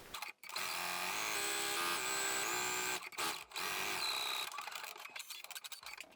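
A sewing machine runs a steady stitching burst closing the side front seam of a wedding dress, pausing briefly near the start and again around the midpoint, then trails off into intermittent handling sounds; no one speaks.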